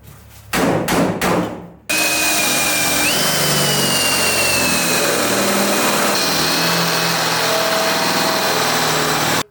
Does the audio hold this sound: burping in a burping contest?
no